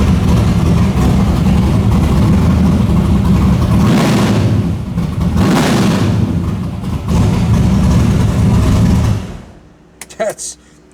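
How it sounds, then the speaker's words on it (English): A carbureted engine on a Monster carburetor, flat-footed off idle: heavy low rumbling throttle blips and surges, loud and close, running for about nine seconds before cutting to near silence with a few faint clanks. "that's just flat footing right off of idle, and it's just boom boom."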